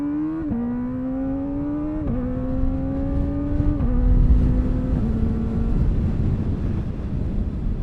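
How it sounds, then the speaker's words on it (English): A motorcycle pulls away from a standstill and accelerates hard, its engine note climbing steadily and dropping briefly at each quickshifter upshift, about four quick gear changes in a row, close and loud with wind noise. "this is how you use the quick shifter very smoothly"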